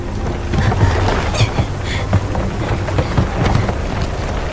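A space storm in an animated series, a loud, dense roar of rushing wind with churning, sloshing turbulence and scattered bursts, sustained throughout without any voices.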